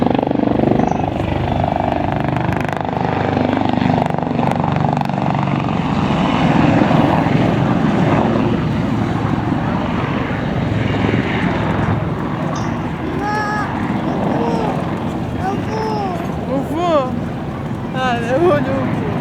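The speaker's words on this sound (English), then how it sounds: "It's not just a manoeuvrable helicopter, it's also a very fast one." A Westland Lynx helicopter roars past at an air show in a loud, continuous rotor and engine wash that shifts as it manoeuvres, with a commentator talking over a public address system.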